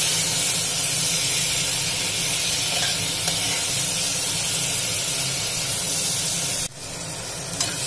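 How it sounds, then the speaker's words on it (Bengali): Water poured into a hot pan of potatoes and spices for a broccoli and potato sabji: a loud, close, steady sizzle and steamy hiss that runs throughout, then abruptly drops and quiets near the end, with no talk. "তারপর এটা আমি একটুখানি জল দিয়ে দেবো আলুগুলো সিদ্ধ হওয়ার জন্য।"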